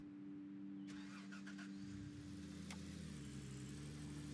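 In the mining game Gold Rush The Game, a car engine cranks with a few quick starter bursts, then catches and settles into a steady, quiet idle hum, with no talk.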